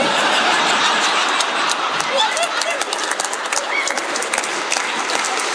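A stand-up comedy audience bursts into loud, dense applause mixed with scattered chuckles, the clapping sustained and close for several seconds.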